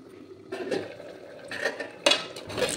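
Metal pot and utensils clattering on a stove as pork is added to boiling taro, several sharp clanks and scrapes in irregular bursts, close by with no speech.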